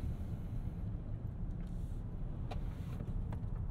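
Steady, muted cabin drone of a 2022 Hyundai Palisade with a naturally aspirated V6 and 8-speed automatic while driving, low road and engine hum with faint wind noise and no speech.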